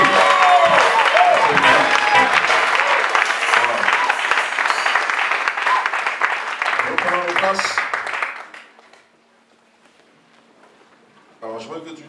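Church congregation applauding loudly and steadily for about eight seconds, dense clapping mixed with cheers before it fades out, followed by near silence and a voice starting to speak.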